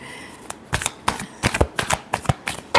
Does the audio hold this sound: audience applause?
no